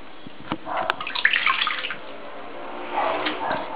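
Water sloshing and splashing in a small tub as a newborn baby gets a first bath at home, soft intermittent splashes and drips, clustered early then again near the end, close and fairly quiet, no clear talk.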